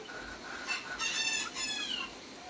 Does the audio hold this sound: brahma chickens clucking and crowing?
yes